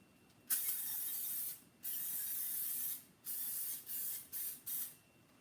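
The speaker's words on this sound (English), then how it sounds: "So I'm just gonna spray this." Five bursts of spray from a can of organic extra virgin olive oil into a muffin tin, the first long, the rest shorter and quicker, close and crisp hissing with quiet pauses between.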